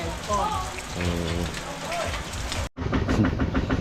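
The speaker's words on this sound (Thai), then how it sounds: "ฝนตกทุกคนเลย" Heavy rain pours down steadily and close by, with voices speaking over the downpour and a brief dropout partway through.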